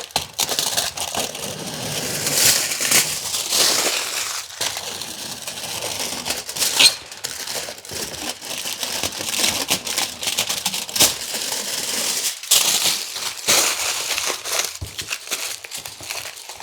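Aluminum foil being peeled off a fiberglass ceiling liner, continuous loud crinkling and tearing with uneven bursts of rustle throughout, close and without talk.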